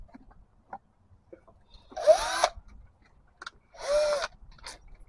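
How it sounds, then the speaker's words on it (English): Two short bursts of an electric drill whirring up and spinning down, about two seconds apart, close by amid small handling noises. "Luckily, I had a drill bit with me."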